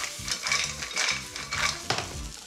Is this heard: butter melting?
yes